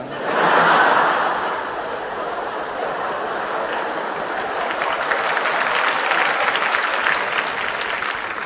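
A live audience applauds at a stage talk show, a dense burst of clapping that swells at the start and then carries on steadily, broad and enveloping, with no voices over it.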